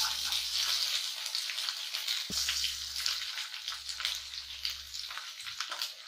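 Chopped garlic and chilies sauté in a hot pan for a Kerala-style vadukapuli lime pickle. A steady close frying hiss runs throughout, with brief low clatters from stirring.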